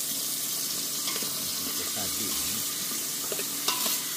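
Steady sizzling of curry spices frying in a pan at a campsite on Pulau Talang Lumut, Perak, with occasional stirring scrapes and clinks, close and continuous.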